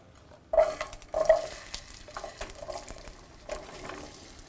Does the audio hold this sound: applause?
no